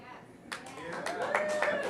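A small audience gives thin, half-hearted applause, a scattering of claps starting suddenly and staying sparse and fairly quiet, with a voice speaking over it.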